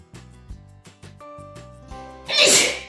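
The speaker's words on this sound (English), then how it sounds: "I sneezed on my baby." A loud, sudden sneeze bursts out near the end, following a few seconds of quiet, tonal background music.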